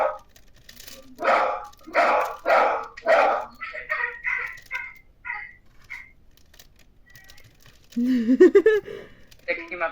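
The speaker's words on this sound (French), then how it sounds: "Oh putain, les chiens." Several dogs barking, a run of loud close barks followed by quieter yips and whimpers, with a person talking afterward.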